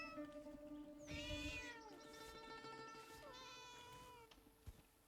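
A cat character in a video game meows twice in long, drawn-out, falling cries. The calls are faint and sit over a quiet game background.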